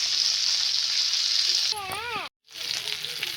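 Murrel fish fries in hot oil with a loud, steady sizzling hiss. The sizzle is briefly interrupted by a short spoken voice and a moment of silence, then resumes.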